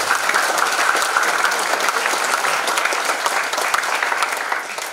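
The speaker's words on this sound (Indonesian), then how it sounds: "sekali lagi tepuk tangan untuk Tuhan dan untuk kita semua" A congregation at a closing Mass of a family congress breaks into sustained, even applause, loud and close. The full-room clapping continues unbroken for about five seconds.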